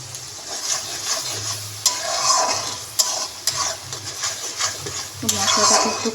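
Onion paste and tomato paste sizzle in a hot pan over medium heat with whole garam masala while a spoon scrapes and clinks against the metal, close up with an irregular stirring rhythm.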